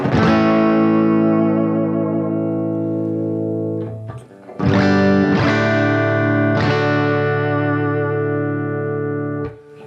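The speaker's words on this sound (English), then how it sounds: "This is a normal guitar sound." Electric guitar chords strummed and left to ring, a few separate hits each decaying slowly, fairly loud and close, with no voice.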